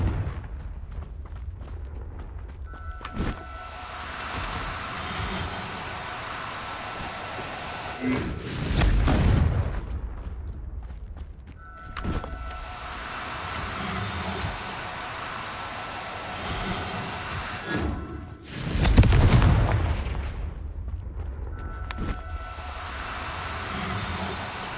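Confringo blasting spells explode in Hogwarts Legacy, two loud, rumbling bursts about ten seconds apart over a steady, low background ambience.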